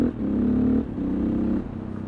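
A 2003 KTM 525 EXC enduro motorcycle rumbles close by with a steady low engine note that rises and dips in two or three short throttle pulses.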